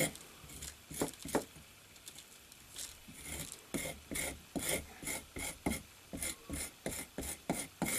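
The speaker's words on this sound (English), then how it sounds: "It's good to scrape with." A thick metal putty knife scrapes across brick in short, repeated rasping strokes, growing into a steady rhythm, close up and fairly quiet, with no clear talking over it.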